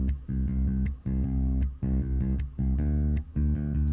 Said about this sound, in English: next we have the bass guitar.